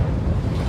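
Rough surf churning off the eastern tip at Morant Point, Jamaica, a steady broadband wash of waves with wind buffeting the microphone, loud and continuous throughout the short stretch.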